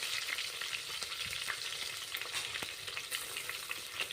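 Sliced onions sizzle and crackle in hot oil in a pan for kushka rice, a steady frying hiss with scattered sharp pops and occasional stirring scrapes, close and alone without talk.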